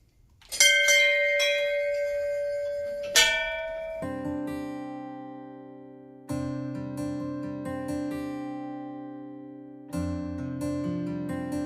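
Temple bells at Gangnath temple are struck several times, each clang ringing out and slowly decaying into a long resonant hum, close and clear with no voices.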